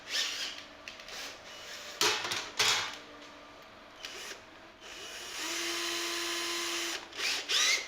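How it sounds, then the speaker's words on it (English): A cordless drill whirs in several short bursts, then one longer steady run, drilling holes in wood on a cookie tin ukulele, with small clicks and handling noises between, quiet and close. "So I just need to drill those holes through a little bit."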